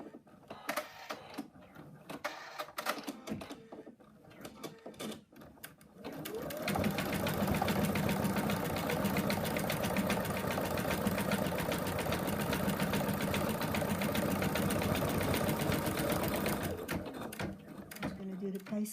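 A sewing machine stitches the leg of a toy frog, first in short stop-start bursts, then running steadily at close range for about ten seconds before slowing and stopping.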